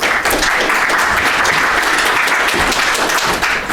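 Steady audience applause at a quantum-resistance federal cybersecurity talk, a dense even wash of clapping from a large crowd that fills the moment without pause, with no voices over it.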